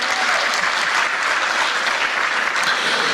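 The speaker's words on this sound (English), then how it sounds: "Let's give all of these collaborative organizations a wonderful round of applause for putting on this event on this day" A community club audience applauds the partner organizations that put on the event, a dense, steady wash of clapping from many hands that stays loud and even throughout.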